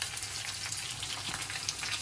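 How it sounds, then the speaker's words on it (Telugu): Mustard seeds splutter in hot oil for a tempering before garlic goes into a brinjal sambal. Dense, close crackling pops sound over a continuous sizzle. "పోపు కొద్ది ఇట్లా చిటపట అనాలి మంచిగా"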